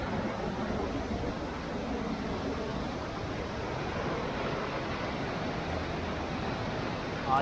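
Kondhawale waterfall at Koyna, its rushing water making a continuous, dense roar that stays loud and steady throughout, with no talk over it.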